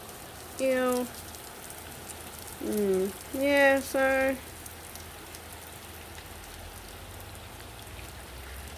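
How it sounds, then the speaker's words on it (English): Pouring rain at Mangawhai makes a steady, dense hiss of drops on surfaces throughout, with a few short spoken exclamations and bits of talk over it early on. "We don't want the rain coming in."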